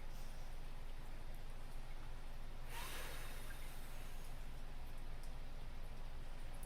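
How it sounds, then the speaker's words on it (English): A single deep breath drawn in slowly toward the belly, a soft airy rush rising briefly in the middle of a quiet, steady background hiss, with no talking. "So I'm going to breathe in into my belly."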